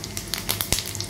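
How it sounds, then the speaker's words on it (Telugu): Black gram, fenugreek, mustard and cumin seeds sizzle in hot oil, making a brief, close crackle with small pops. "ఇలా ఫ్రై చేసుకుందాము."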